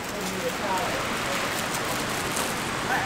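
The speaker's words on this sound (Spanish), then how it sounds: "Ya está lloviendo, increíble." Steady rain patters down in Puerto Rico, a dense even hiss of drops on surfaces with no clear pauses throughout.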